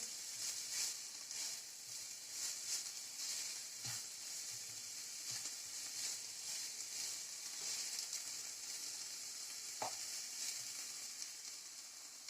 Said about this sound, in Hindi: पाँच मिनट के लिए हम इसे फ्राई करेंगे।